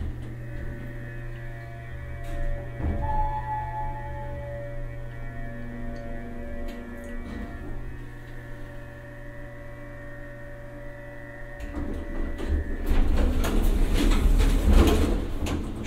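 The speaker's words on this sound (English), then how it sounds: "Schindler Haughton motors never disappoint." Motor of a Schindler Haughton hydraulic elevator running with a steady low hum, growing louder and rougher near the end as the car starts to move.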